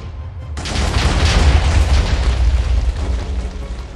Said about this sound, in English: Someone just got like orbital nuked.